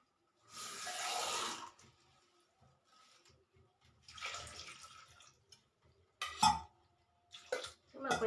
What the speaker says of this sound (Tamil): இதில் தண்ணி ஊற்றி